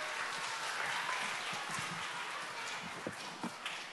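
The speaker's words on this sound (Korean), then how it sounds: "인사할 때 큰 박수 보내주세요" An audience at a children's church program applauds as the children bow, a soft continuous wash of clapping heard from a distance, fairly faint and steady throughout.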